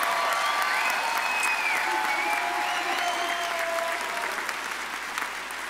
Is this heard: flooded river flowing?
no